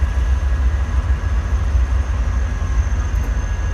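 A CSX freight train led by an SD70AC diesel locomotive rolls past on the Clinchfield line, a heavy low engine rumble and steady wheel noise that stays loud and continuous.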